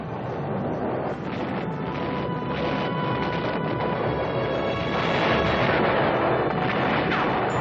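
A World War One artillery bombardment roars with dense, overlapping booms and crashes that form a continuous loud barrage lasting several seconds, with no voices.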